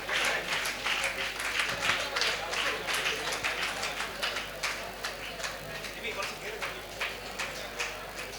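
Sustained audience applause at a state-level World AIDS Day award ceremony, honoring care and support centre representatives; steady dense clapping from a crowd throughout, fairly distant and even in level.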